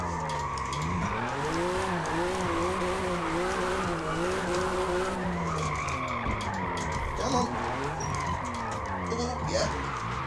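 BMW M2 race car with 656 HP drifting in the Forza Motorsport racing game, its engine roaring at high revs with rising and falling pitch while the tires squeal steadily and loudly throughout.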